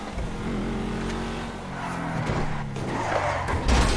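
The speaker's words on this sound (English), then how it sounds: "We're going to go ahead and try to get a drift here to demonstrate the sideways force" A car drifts in GTA V, driven with a steering wheel: a steady engine drone with shifting revs and a rising whine, turning into louder tire and engine noise near the end, close and continuous.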